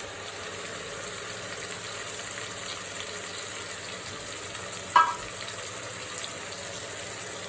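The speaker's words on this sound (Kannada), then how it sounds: "ಇದು ಕ್ಲೀನಾಗಿ ಫ್ರೈ ಆಗಬೇಕಿದು ಯಾಕಂದ್ರೆ ಹಸಿ ಫ್ಲೇವರೆಲ್ಲ ಹೋಗ್ಬೇಕಲ್ಲ" Ground paste of spinach, green chilli, tomato, ginger, garlic and whole spices fries for chicken biryani, a steady close hiss throughout with one brief clink midway.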